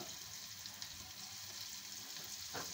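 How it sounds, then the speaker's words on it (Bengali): Onion and green chili frying in a pan with a little chili powder, giving a steady, soft sizzle throughout, with a brief stirring scrape near the end and no talk. "এবার পেঁয়াজটা সিদ্ধ হতে থাকবে।"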